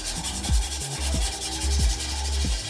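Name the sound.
sanding glazed black marble surface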